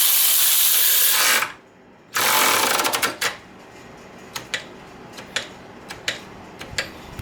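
A VonHaus cordless impact wrench runs a nut down in two loud, close bursts of hammering split by a short pause, followed by scattered light mechanical clicks and ticks.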